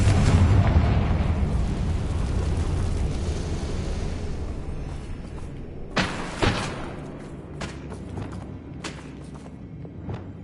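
A Confringo blasting spell explodes in Hogwarts Legacy, a heavy rumbling blast that fades, followed by sharp cracking thuds and debris impacts, with no talk.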